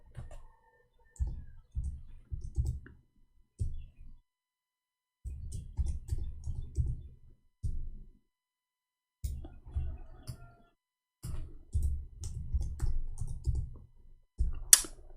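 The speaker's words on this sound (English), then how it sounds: "I hate my keyboard. There's something wrong with it." Typing on a faulty computer keyboard: bursts of dense clicking keystrokes come in irregular runs separated by short silent pauses, close and fairly loud, with no voices.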